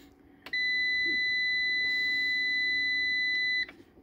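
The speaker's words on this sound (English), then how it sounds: "Alarm control is what'll turn this stupid beep off." An MPP Solar LV2424 inverter's alarm sounds one steady electronic beep lasting about three seconds, clear and close, over faint room hum.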